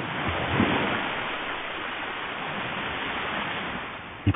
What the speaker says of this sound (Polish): Ogromne fale przelewają się, zalewając piaszczysty brzeg syczącą pianą.